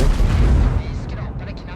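Heavy tank cannon fire in World of Tanks, including shots from a Swedish Strv 103-0 tank destroyer on the Malinovka map, a loud booming blast that rolls off into a fading rumble.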